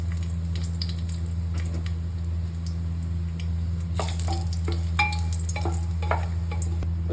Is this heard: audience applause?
no